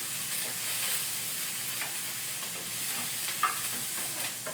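Vegetables sizzle in a pan as turkey is added for a shepherd's pie, a steady close frying hiss with a few soft stirring clicks and taps, no voices.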